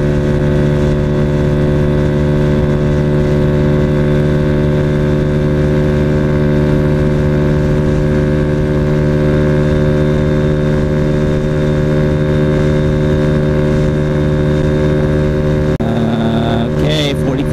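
A Honda Ruckus scooter engine with aluminum foil in its CVT sliders accelerates with a loud, steady droning hum heard from the rider's position, shifting abruptly near the end.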